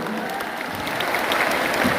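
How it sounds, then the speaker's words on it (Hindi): A crowd of devotees at a Bageshwar Dham darbar claps together in a thick, continuous wash of applause lasting a couple of seconds. "एक बार सीताराम बोलकर ताली बजा करके हनुमान जी को धन्यवाद दो,"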